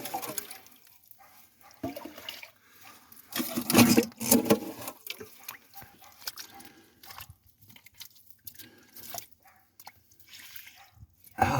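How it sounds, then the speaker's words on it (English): Water from a broken, cracked water line with the pump running, heard as scattered drips and splashy bursts, loudest around the middle, with quieter trickling between them and no talking. "I see water running here, but I'm not sure where it's coming from."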